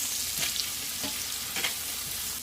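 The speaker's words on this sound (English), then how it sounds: "the peppers are cooked down for 3 minutes" Peppers sautéing in a pan for a Spanish shrimp and chorizo paella, a steady close sizzle with three soft stirring swishes spaced about half a second apart.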